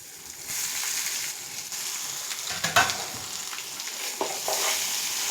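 Raw mango paste goes into a sizzling tempering in a pan for a coconut and mango chutney, giving a loud hiss with scraping stir strokes and a sharp splash near the middle, all close and without speech.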